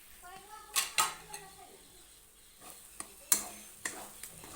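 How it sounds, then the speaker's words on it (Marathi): A spoon scrapes and clinks against a pan while masala slowly roasts, giving sharp metallic knocks spaced irregularly over a faint background sizzle. "चला मसाला मस्त भाजतोय स्लोवर एकदम"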